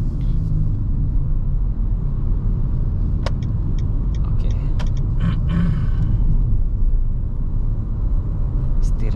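A 2023 Mitsubishi Xforce being driven, heard from inside the cabin as a constant loud low engine and road rumble, with a few faint creaks and ticks over it.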